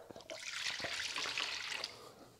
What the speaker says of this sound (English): Now you're gonna add 2 cups of just cold water.